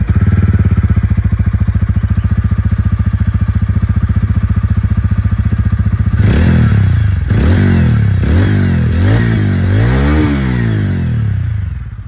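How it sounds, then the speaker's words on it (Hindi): A TVS Ronin motorcycle exhaust idles with a steady, close, loud thrum, then is revved repeatedly in several sharp rising-and-falling bursts, with no talking. "दोनों ही इंजन की यहाँ पर जो बारी बारी से एग्जॉस्ट साउंड है वो भी मैं आप लोग को सुनाता हूँ"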